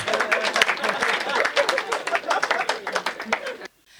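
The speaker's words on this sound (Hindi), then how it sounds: "तालियां बजा दो" An audience at a Hindi comedy poetry gathering breaks into dense, lively applause that holds for several seconds, then cuts off abruptly.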